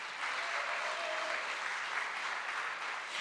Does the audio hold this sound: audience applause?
yes